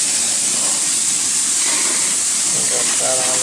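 Curry sauce with mustard sizzles on chicken over a grill fire, a loud, continuous close hiss with faint voice sounds toward the end.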